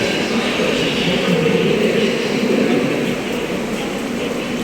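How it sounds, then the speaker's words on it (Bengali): A steady rumbling hum of a metro train at Kavi Subhash metro station in Kolkata, loud and continuous, easing slightly toward the end. "এই হচ্ছে কবি সুভাষ মেট্রো স্টেশন।"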